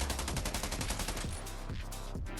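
Rapid automatic gunfire in the mobile shooter Scarfall 2.0, a loud burst of evenly spaced shots for over a second, then a few slower, separate bangs as an enemy is knocked down.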